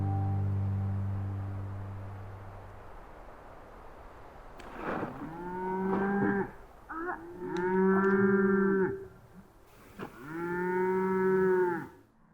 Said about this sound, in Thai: วัวร้องดังมากก้องไปทั้งทะเลสาบเลย